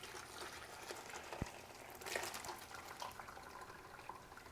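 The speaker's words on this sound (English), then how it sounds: "you're very carefully just going to pour this in" Homemade stock poured slowly through a paper towel strainer, a soft trickling and splashing of liquid with a small knock partway through, quiet and close.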